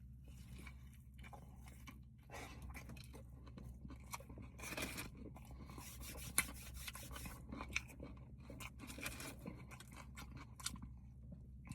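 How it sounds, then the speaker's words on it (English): Close, quiet bites and chewing of a crunchy Burger King chicken sandwich with onions and onion rings give a steady crackling crunch with a few sharper snaps. "The addition of the onions and the onion rings give it a nice little crunch."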